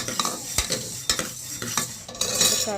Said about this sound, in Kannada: ಕುಕ್ಕರಲ್ಲೇ ಬೇಗ ಉಟ್ಕೊಳ್ತಾ ಇದ್ದೀನಿ